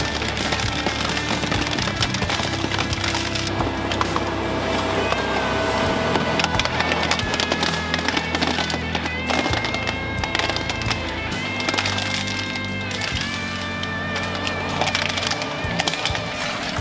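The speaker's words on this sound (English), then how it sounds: "Washing machines, lighting fixtures, and other mixed materials are rapidly reduced to scrap." An industrial shredder grinds washing machines, lighting fixtures and mixed materials into scrap, a dense continuous roar of crunching, splintering and clattering debris that stays loud throughout.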